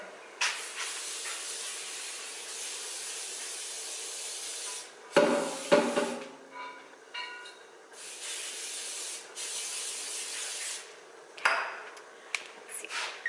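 Short hissing bursts of cooking spray onto a 9x9 baking pan, a few quick sprays with pauses between, close up with faint rubbing sounds.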